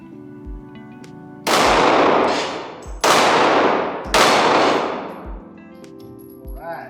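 Four loud, sharp pistol shots from a Glock 48, fired at a tree outdoors, each crack followed by a long ringing echo, the last two closely spaced, then a fainter fifth report near the end.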